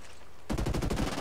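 Rapid burst of automatic gunfire in the tactical shooter Ghost Recon Breakpoint during PvP Ghost War play, erupting suddenly after near silence and rattling loudly in quick successive shots for under a second.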